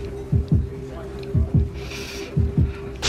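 A ski jumper's amplified heartbeat before launching from the K24 hill thumps in three clear double beats, lub-dub pairs spaced about a second apart over a steady low hum.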